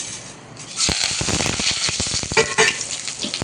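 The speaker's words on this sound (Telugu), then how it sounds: "ఫస్ట్ ఆయిల్ పోసేసుకున్నానండి ఫస్ట్ కరివేపాకు పచ్చిమిరపకాయలు వేసేసాను" Curry leaves and green chilies hit hot oil, bursting into a loud crackling sizzle after a quiet start, with sharp pops and spatters scattered over the steady hiss.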